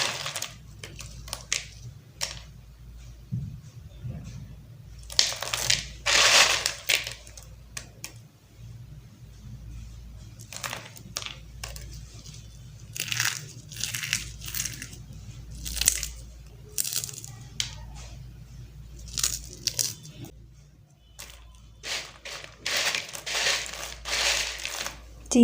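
Crispy fried boondi being crushed, with repeated dry crunching and crackling bursts at close range, separated by brief quiet gaps over a low background hum.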